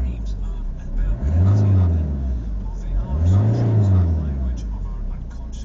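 An old car that has sat parked for months and is not roadworthy runs with its engine revving up and settling back in two slow swells, loud and near, with a voice partly audible underneath.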